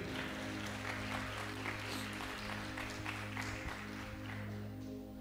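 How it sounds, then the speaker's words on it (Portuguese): A church congregation applauding, a continuous wash of many people clapping over a steady hum of instruments, moderately loud and even throughout. "Quem pode aplaudir o nome de Jesus aí, dar glória ao nome dele?"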